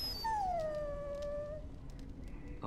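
A dog in the video game Dragon Age: Origins gives one long whine that starts high and slides down, fairly faint over a quiet ambient game backdrop, with no talking.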